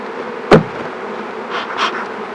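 Nurse bees at an open hive during an inspection, a sharp knock near the start followed by a couple of brief, soft buzzing swells.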